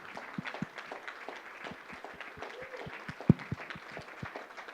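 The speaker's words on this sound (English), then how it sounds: "let's give them a big round of applause" Sparse applause at a homeless and housing alliance forum, scattered individual claps in loose rhythm with one sharp nearby clap standing out, fairly faint and thin.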